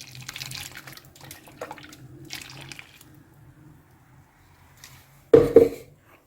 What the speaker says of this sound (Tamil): இதில் கொஞ்சம் தண்ணி ஊற்றி கலக்கலாம்